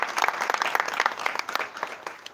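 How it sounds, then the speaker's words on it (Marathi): Audience clapping loudly at a public lecture during a birth-anniversary celebration, dense applause from a crowd filling the room throughout, with no talk over it. "ज्योतिराव फुलेंसाठी एकदा जोरदार टाळ्या झाल्या पाहिजेत"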